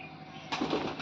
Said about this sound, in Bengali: সব পায়রা এক এক করে চলে গেল,